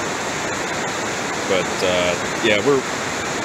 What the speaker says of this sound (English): we're still dumping a lot of water into the lake